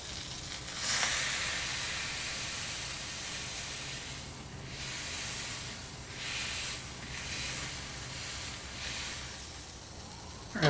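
A burger patty sizzles on a hot grill for smash burgers, a steady loud hiss with a few swelling bursts and no talking.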